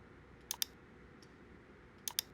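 Computer mouse clicks while dragging with a pen tool in design software: two quick double clicks near the start and another pair near the end, crisp and close over a quiet room hiss.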